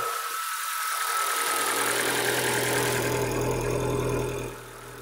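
A Vauxhall Tigra car engine runs close by at a steady idle. The low, even hum drones for a few seconds with no talking.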